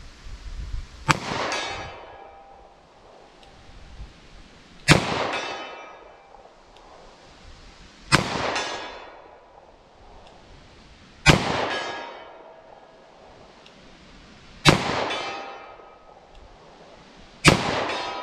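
Six loud, sharp pistol shots from 10mm Auto and .357 Sig handguns at an outdoor range, evenly spaced a few seconds apart, each with a ringing echo that fades between reports.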